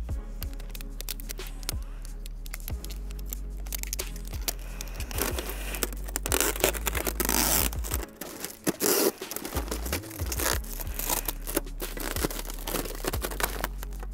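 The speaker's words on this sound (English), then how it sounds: "Last part is to tape it shut." Tape is pulled and pressed around a plastic milk jug to seal it shut, giving a long run of close crinkling, tearing and crackling scrapes with no talking.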